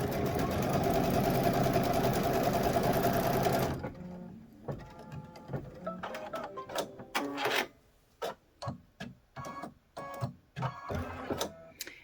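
Sewing machine stitching a quilt border, a loud steady whirring run for a few seconds, then a series of short stuttering stitch bursts and clicks.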